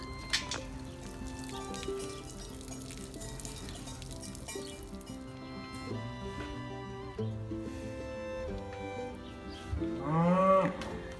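Simmental beef cattle, cows with their calves crowding at a pen exit, give deep, drawn-out moos in sequence, fairly faint at first, then a louder bellow near the end.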